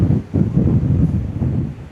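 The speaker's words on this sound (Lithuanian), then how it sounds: "čia vėjas kyla, banga kyla" Wind gusts by the sea on Saaremaa roar across the microphone in a low, buffeting rush that swells and eases over a couple of seconds.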